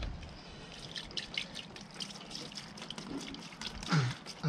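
A motorbike brake caliper is scrubbed clean with white spirit, giving soft wet dripping and trickling sounds with light brushing at close range and a slightly louder splash near the end.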